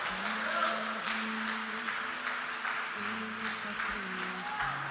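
A church congregation applauding during a worship service, steady clapping blended with voices and a sustained musical tone underneath.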